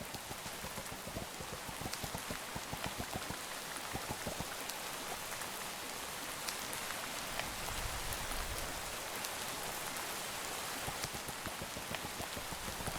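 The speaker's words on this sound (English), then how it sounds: "It's raining, so the trees are not going to grow as fast." Rainfall in the game Minecraft: a dense, constant patter of drops on surfaces with scattered sharper taps early on, a soft low swell near the end, steady and moderate in level, no talking.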